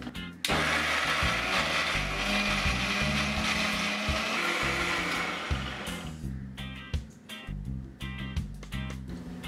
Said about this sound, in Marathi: आपण त्यात पाणी घालून गंधासारखं बारीक वाटून घेऊया